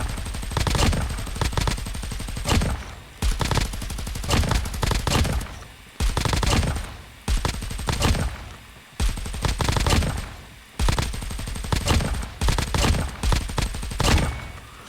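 Peacekeeper gun fire in a video game, loud repeated bursts of rapid automatic shots broken by short pauses, about five sprays in a row with no talking.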